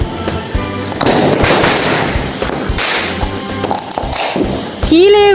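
Loud crackling bursts and pops of Diwali fireworks overhead, dense and continuous, with a rising whistle near the end and voices mixed in.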